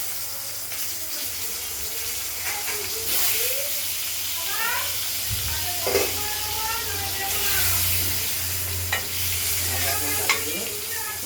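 Potatoes frying in hot oil in a pan for a spicy Bengali rohu fish curry with ground spice paste, a steady sizzle running throughout with scattered stirring scrapes and clatter, close and moderately loud.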